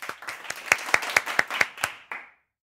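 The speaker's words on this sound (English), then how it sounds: "Clap for yourselves." A small group of children in a primary-school English lesson clap for themselves, about eight crisp, fairly even claps close by that stop abruptly.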